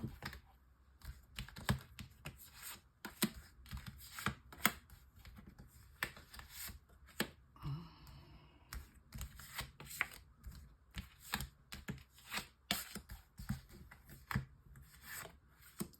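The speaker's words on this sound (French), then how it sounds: "on va faire aussi un tirage en 9 cartes." Tarot cards are shuffled and handled for a nine-card spread, giving faint, close, rapid riffling and soft tapping that repeats in quick bursts throughout, with no voices.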